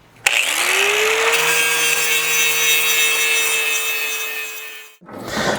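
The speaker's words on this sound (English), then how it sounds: "you can just cut with a grinding wheel until they break loose." A grinding wheel cuts out spot welds on a 1955-59 Chevy truck dash panel, a loud, close, sustained whine that spins up, holds steady for several seconds, then cuts off.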